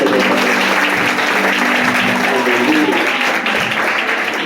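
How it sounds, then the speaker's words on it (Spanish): A church congregation applauds during a sermon, a loud, continuous roar of clapping that stays full and even from start to finish, with faint voices blended underneath. "Dele palmas a Dios"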